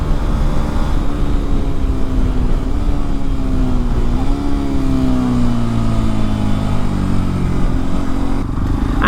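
A Hero Xpulse 210 motorcycle with a new exhaust drones loudly while being ridden, its engine note rising and falling smoothly through rev-matched gear changes, close and continuous with no talk.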